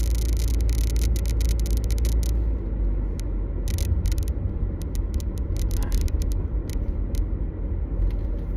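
A car's engine rumbles steadily from inside the cabin while driving, with low road noise that continues throughout and a few faint higher clicks and rattles.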